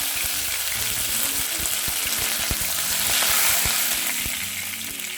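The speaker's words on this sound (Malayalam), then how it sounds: "കടുക് പൊട്ടി വന്നിട്ടുണ്ട്. അതിലേക്കൊരു 1/4 ടീസ്പൂണ് ഉഴുന്നുപരിപ്പ് ചേർത്തിട്ട് മൂപ്പിച്ചെടുക്കുക." Mustard seeds, urad dal, green chillies and curry leaves fry in hot oil, a loud, close, continuous sizzle with scattered pops and crackles throughout.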